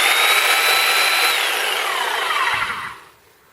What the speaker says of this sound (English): And then we have the Sawzall.